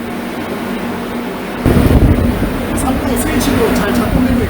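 A steady mechanical hum of a Hyundai Mighty 3.5-ton truck's refrigeration unit, joined after a moment by louder rumbling and rattling as it runs continuously, close by.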